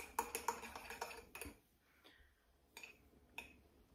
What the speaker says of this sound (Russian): Мне же нужно помешать мой кофе.